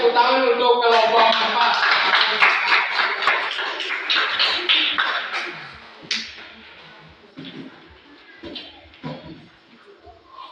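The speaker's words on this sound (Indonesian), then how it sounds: "kita tepuk tangan untuk kelompok" A classroom of students claps hands for a student group, brisk clapping that starts strong and then thins out into a few scattered claps, with a voice speaking briefly.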